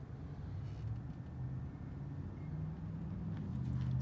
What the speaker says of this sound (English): here's the motor